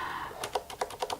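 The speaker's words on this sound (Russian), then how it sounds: "Вот такая клавиатура." A Corsair Strafe RGB MK.2 keyboard with Cherry MX Silent switches is typed on, six or so quick, muffled keystrokes in an even rhythm, close and quiet.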